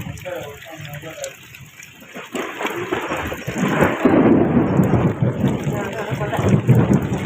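Heavy rain pours down outdoors with rumbling thunder building in strength, a steady broadband roar that grows louder toward the end, with brief voices in the background.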